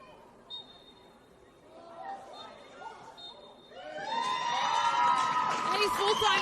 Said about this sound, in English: you can hear the crowd going wild, as they should